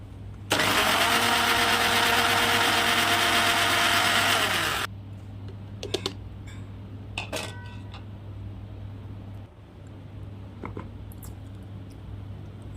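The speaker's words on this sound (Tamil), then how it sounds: "இந்த மாதிரி தண்ணீர் விட்டு நல்லா நைஸாக அரைச்சி எடுத்துருங்க." A mixer grinder whirs loudly for several seconds while grinding coconut with water, then stops, followed by clinks of the jar and utensils against a quiet background.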